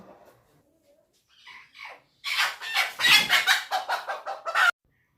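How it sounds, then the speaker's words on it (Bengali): A hen clucks after laying eggs, starting with a few soft, scattered notes before breaking into a loud, rapid run of sharp clucks close by, with no one talking. "এই মুরগিটার মনে হয় ডিম পাড়া কমপ্লিট হয়ে গেছে"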